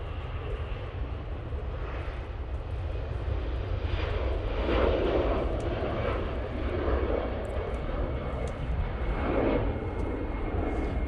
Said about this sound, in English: Aer Lingus A380 returning back to Dublin now